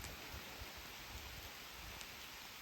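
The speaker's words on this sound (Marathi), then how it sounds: "पाऊस बघा केवढा आला" Heavy rain pours steadily over a village rice farm in Maharashtra, a dense, even hiss of close downpour that fills the whole stretch with no voices.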